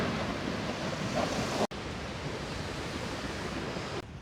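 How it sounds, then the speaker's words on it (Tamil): Strong ocean waves in a coastal storm, a loud, dense broadband roar of churning surf and wind, continuous and close, with a brief dropout partway through and no voices. "ஆனா பலத்த அலைகள்"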